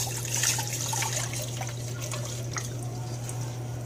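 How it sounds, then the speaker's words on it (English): Two cups of water poured into a container while making flaxseed custard, a steady close trickle and splash with scattered drips, no talk. "I got a cup of water here, 2 cups of water that I'm going to pour in here"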